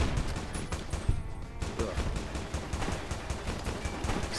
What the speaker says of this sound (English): Yeah, I wonder who they're shooting at.